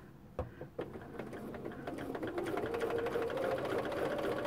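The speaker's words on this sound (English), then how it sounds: "we're going to put this under the machine now, and we're going to stitch this" Sewing machine stitching patchwork pieces together, a couple of sharp clicks and then a steady, building whir of rapid stitching.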